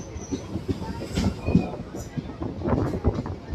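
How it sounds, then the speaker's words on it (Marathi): Koyna Express pulling into Sangli railway station, with wheels clattering and rumbling over rail joints and faint squeals, under a busy background of noise. "आता गाडी सांगली रेल्वे स्टेशनवरती अरायवल करत आहे."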